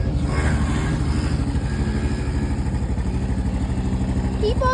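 A small pit bike engine, a Predator 50, runs steadily and close by, its rough mid-pitched putter holding fairly even with slight throttle swells the whole way through. No one speaks over it.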